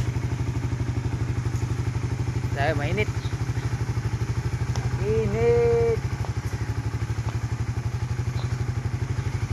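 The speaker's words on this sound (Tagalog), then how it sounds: "At kami ay magmumotor." A motorcycle carrying a rider and a passenger runs with a steady, pulsing engine note throughout, close and continuous, while people talk briefly over it.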